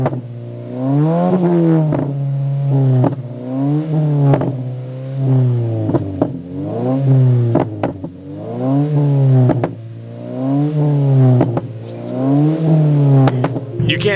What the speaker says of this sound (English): put it outside, do some rev skis so I can show off some more of my pops